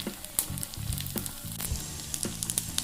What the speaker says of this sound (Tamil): நல்லா ஒரு கோல்டன் ப்ரௌன் ஆகிற வரைக்கும் நம்ம ஃப்ரை பண்ணி எடுத்துக்க போகிறோம்